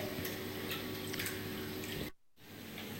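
Water runs across a glass plate in an indoor waterfall spillway, a steady close hiss and patter with faint drips that cuts out briefly near the end before resuming.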